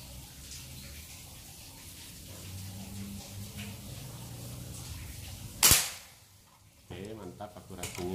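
A single sharp shot from a bullpup air rifle with a 50 cm barrel, charged to 3500 psi, cracks loudly amid quiet background noise, followed by a faint voice afterward.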